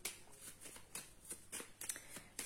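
Small oracle cards being handled and shuffled, a quiet run of crisp riffling and flicking bursts in an irregular rhythm, close and soft with no talking.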